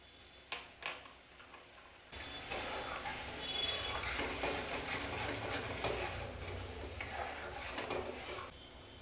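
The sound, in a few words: stirring navaratan korma in a pan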